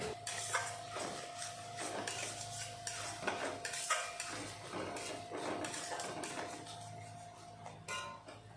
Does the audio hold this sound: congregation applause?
no